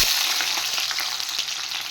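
Chopped onions go into a small amount of hot oil for a chicken dish and fry with a steady, close sizzle, crackling and hissing without pause.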